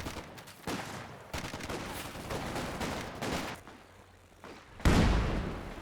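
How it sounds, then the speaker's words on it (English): An artillery barrage in the video game Company of Heroes 2, a string of rumbling blasts and crackling fire at moderate level, capped by one heavier close boom near the end. "Oh, this barrage coming in."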